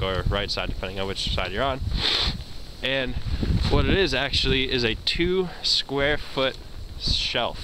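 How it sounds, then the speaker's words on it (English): Outdoor wind buffeting a microphone, a low blustery rumble under a man's close, continuous speech. "sorry about the wind"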